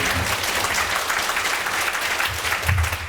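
An audience at a public deliberation forum on a proposed Starfield store in Changwon applauds to greet a panelist, dense, close clapping that fills the short stretch without pause.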